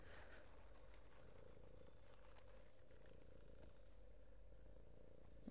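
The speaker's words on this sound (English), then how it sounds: "Purring and just making biscuits." A cat purring close by while kneading, a steady low rumbling purr that runs continuously and softly throughout.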